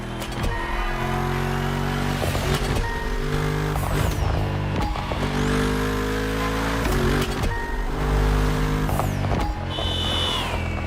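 BMW Z4 M40i roadster in The Crew Motorfest, its engine revving and shifting through gears in repeated surges, with rising and falling pitch and bursts of acceleration, loud and close.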